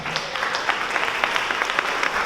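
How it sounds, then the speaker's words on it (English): Audience clapping for a panel at the Accountability Summit 2019, a moderately loud, busy patter of many hands with sharp individual claps standing out, no speech over it. "applaud our panel"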